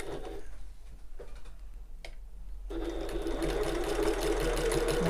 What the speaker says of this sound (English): I'm just going to stitch these within the seam allowance just to secure them in place for the minute